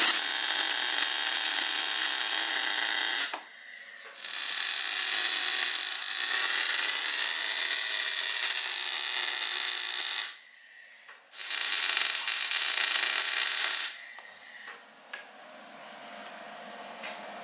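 Welding on an eye for a spare tire mount on a Can-Am X3 produces a loud, close, bright buzzing hiss in long sustained runs, broken by short gaps where the arc stops and restarts.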